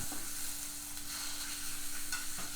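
Minced pork frying with fragrant curry paste for Thai nam phrik ong, a steady close sizzle with scraping stir strokes of a spatula against the pan.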